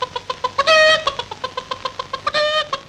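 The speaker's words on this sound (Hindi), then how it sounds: "क्या? मुर्गी?" Chicken clucking in a Hindi film scene, a rapid series of sharp clucks broken by two drawn-out squawking calls, loud and close with no talking.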